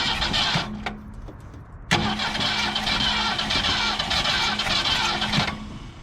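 An abandoned 1967 Ford Galaxie 500, fitted with a rebuilt carburetor, new spark plugs and points, cranks with a rapid chugging starter, pauses, then catches and runs in a loud, uneven near idle before cutting out.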